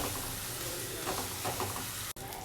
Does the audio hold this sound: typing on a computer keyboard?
no